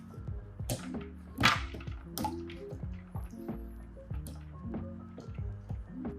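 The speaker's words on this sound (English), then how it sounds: "These potatoes are ready. Plop them in the ice bath." Boiled potatoes dropped into an ice water bath, a run of close wet plops and splashes with water dripping between them.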